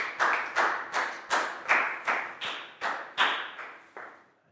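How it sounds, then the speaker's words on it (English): A classroom of young students claps for a classmate in a regular, evenly spaced rhythm, about a dozen loud, close, sharp claps in unison fading at the end. "High five and a big round of applause for Lakau."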